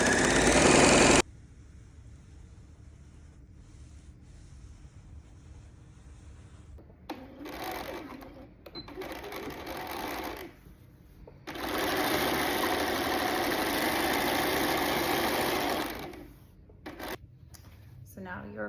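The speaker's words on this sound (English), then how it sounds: "I'm going to serge along the bottom of this and create a hem" A serger sewing machine hems the bottom edge of fabric for a theater accessory and shoe bag, running in two steady mechanical bursts, the longer one near and loud, separated by quieter handling.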